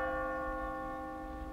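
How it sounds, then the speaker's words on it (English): A church bell tolls in a single sustained stroke at an open-air Shakespeare performance of Macbeth, its steady ringing tone hanging evenly and fairly loud with no voices over it. "The bell invites me."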